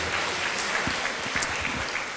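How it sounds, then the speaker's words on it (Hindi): Church congregation clapping during a Sunday prayer service, a soft, steady wash of many hands at a distance, brief and fairly quiet with no voices on top. "हम तालियां बजा के परमेश्वर को धन्यवाद दें।"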